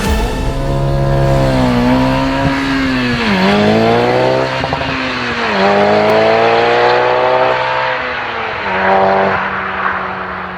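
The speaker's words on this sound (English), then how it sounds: "this is now the time we're going to floor this throttle pedal" A KTM X-Bow GT with a turbocharged Audi engine accelerates hard at full throttle. The loud, close engine note climbs steadily and drops sharply at each of several gear changes, with no talking.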